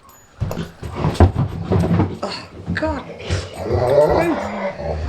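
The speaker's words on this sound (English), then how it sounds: "Now we're going to have a fight because the other dog wants the ball." Two dogs growl, whimper and yip at each other over a ball, close and fairly loud, with a woman exclaiming briefly among the dog sounds.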